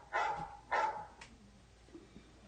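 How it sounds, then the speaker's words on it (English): A phone's text message alert set to a dog-bark tone gives two quick bark-like yaps and a short third yip, close and clear, with no talk over it. "Yeah, my phone is barking."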